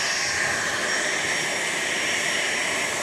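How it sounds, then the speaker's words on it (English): An airplane at Dallas Love Field airport roars steadily and loudly without letup, a broad engine rush with a high whine on top, and no voices over it. "yeah, that's the plane."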